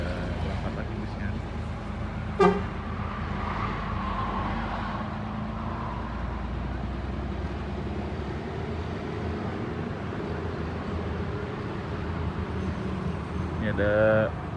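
A bus pulls away from the ticket office at a Palembang bus station with a steady engine rumble and short horn toots near the start and end, while someone talks throughout.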